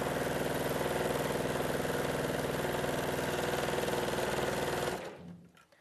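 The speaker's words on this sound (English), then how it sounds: "So you sew your strips together." A sewing machine joins fabric strips in a steady, fast, close-up mechanical whir for about five seconds before stopping abruptly.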